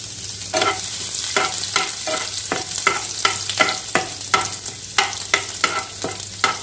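Garlic sizzling in hot oil in a pan where chicken was fried, with a spatula scraping and stirring in a quick regular rhythm, close and steady over the continuous fry hiss.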